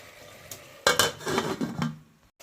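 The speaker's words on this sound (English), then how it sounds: "So I'm going to stir fry them for 15 minutes" Chicken feet being stir-fried in a pot for a Jamaican brown stew, with a sizzle that swells suddenly and scraping spoon strokes that rise and fade over a couple of seconds, close and fairly loud.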